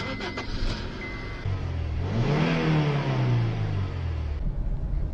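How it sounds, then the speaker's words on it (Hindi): A Honda Civic with manual transmission accelerates on a drive, its engine rising steadily in pitch and then easing off, heard from inside the car as a continuous, moderately loud hum without talk. "let's go out for a drive, let's see कि इस मैनुअल ट्रांसमिशन के साथ इस सिविक का जो ड्राइविंग एक्सपीरियंस है"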